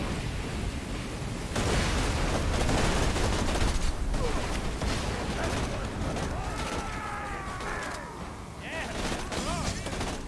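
Grenade blasts and rapid gunfire from a Borderlands 2 fight, dense and loud with bursts and booms layered over music and game effects, while a voice talks over part of it.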